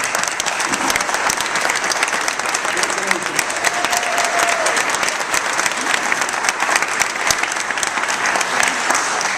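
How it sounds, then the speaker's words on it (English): A large audience claps steadily for Hall of Fame inductees at a college athletics ceremony, dense sustained applause filling the room without a break. "We'll give them a round of applause."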